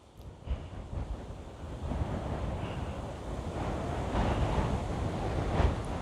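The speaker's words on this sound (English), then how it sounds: "the wind is just bouncing up and down those fields through the trees, and it's physically blowing me back" Strong wind buffets the microphone while riding a Kawasaki Vulcan S motorcycle through open countryside fields, a constant roaring rumble that gradually swells louder and stays unbroken throughout.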